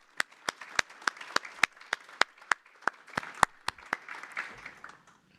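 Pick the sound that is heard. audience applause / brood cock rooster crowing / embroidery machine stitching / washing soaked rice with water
audience applause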